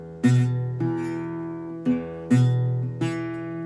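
Beginner acoustic guitar playing with badly fretted notes, a few struck notes and chords ringing out unevenly, each pluck followed by a buzzy, dull decay, heard up close with no talking.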